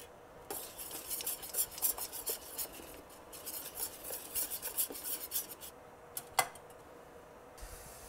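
Arepa dough being stirred in a pan in a home kitchen, a quiet scraping and rubbing of utensil against cookware in irregular strokes with a sharper clink near the end.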